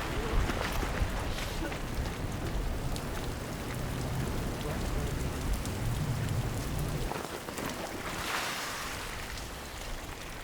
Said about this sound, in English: The rain's still sheeting down, so we're going to have to call it a day